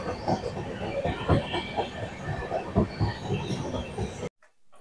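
The Black Diamond Express rolls into Barddhaman Junction with a rumbling, uneven roar and rhythmic wheel knocks on the rails, heard from inside the train until the sound cuts off abruptly.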